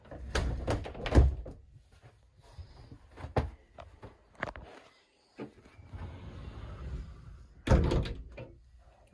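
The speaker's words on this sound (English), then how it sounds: "Bifold shower door as well." A bifold shower door in a 2015 Elddis Crusader Storm caravan is handled several times, with soft clacks, thuds and sliding rattles spread across the clip, close by and fairly quiet.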